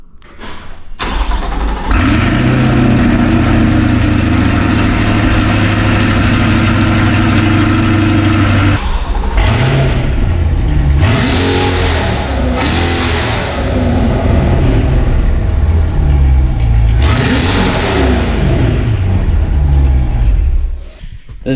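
A Chevrolet C8 Corvette fitted with high-flow catalytic converters cold starts with a sharp crank and loud roar, holds a high fast idle, then settles and blips through several revs, close and powerful.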